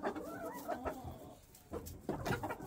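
Backyard chickens and a rooster cluck and coo close by in a busy, overlapping chatter of short calls with small bursts of louder clucking.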